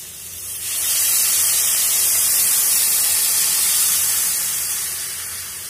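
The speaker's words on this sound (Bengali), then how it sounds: "এখন একটুখানি আমি গরম জল দিয়ে দেব" Hot water poured into a pan of frying vegetable curry with potato, eggplant and drumstick pieces sets off a loud, steady hissing spray of steam. It swells quickly and holds for several seconds before easing off, with no talking.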